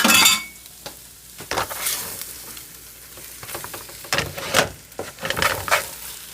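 Flour being stirred into a mixture in a pan: irregular scraping strokes and clinks of a utensil against the pan, some loud and close, over a light sizzle.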